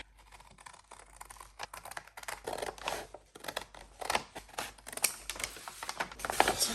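Scissors cut across a recycled paper grocery bag with a series of crisp, close snips and rustling paper, growing busier toward the end.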